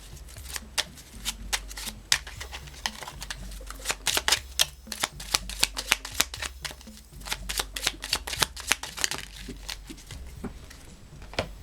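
Oracle cards are shuffled and drawn, a long run of quick, crisp riffling flicks and taps at close range with no talking.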